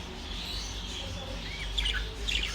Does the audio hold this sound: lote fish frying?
no